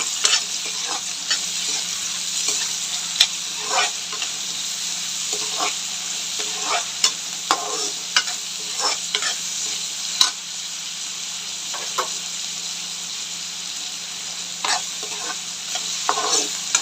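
Onions sautéing in a pan for a mutton and potato kulambu, a steady sizzle broken by repeated clacks and scrapes of a spoon stirring, close and without speech.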